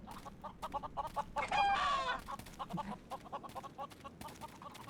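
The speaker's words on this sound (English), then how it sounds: "Hello, chicken." A chicken clucks in short, repeated bursts in the Neverwinter Nights video game, with one louder squawking call in the middle, heard alone and fairly quiet.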